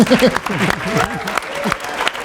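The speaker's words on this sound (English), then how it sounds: "let's again give another round of applause for Ricardo Handy and Adam Fowler, please" Audience applause fills a town hall for the film and TV industry, a steady wash of clapping with a few voices talking over it, close and fairly loud throughout.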